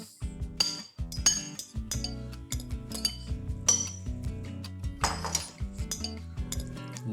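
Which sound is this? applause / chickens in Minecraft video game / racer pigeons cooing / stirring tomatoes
stirring tomatoes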